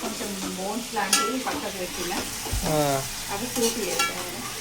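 Chicken for biryani frying and being stirred in a pan, a steady close sizzle broken by scraping stirs and clinks of the utensil.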